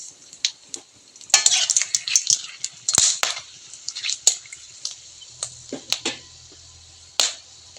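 Whole cloves, cinnamon and cardamom hit a hot pan for a chicken curry. They set off quick, sharp sizzling pops and crackles that come in irregular bursts before thinning into scattered ticks, with no one talking.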